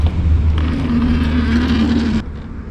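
Steady electric motor whine from a hoverboard kart driving, with a constant droning hum and rolling noise that cuts off sharply near the end, no talking.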